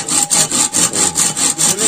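A hand saw cuts through bamboo to make a gogona, a traditional Assamese instrument, in steady back-and-forth strokes, close and loud, with roughly eight rhythmic rasping passes.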